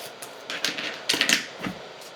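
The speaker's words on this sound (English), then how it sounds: "going to snip this." Scissors snipping a punched paper ice cream cone shape make a few close, crisp cutting snips in quick succession, with quiet handling sounds in between and no voices.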